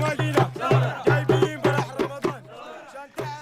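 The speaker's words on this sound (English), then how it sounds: "that is the sound of protesters today on the streets of Sudan's capital" A crowd of protesters on a street in Sudan's capital chants and shouts in unison with a steady rhythmic cadence, loud and close, voices rising and falling together.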